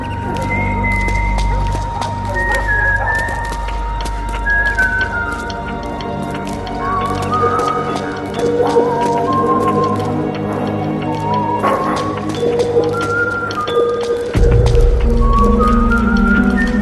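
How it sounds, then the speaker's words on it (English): A whistled tune in Metal Gear Solid 4 carries a wavering melody of short rising and falling notes over wet, squishy game sounds and a low background hum, with someone talking at times. "Do you hear whistling?"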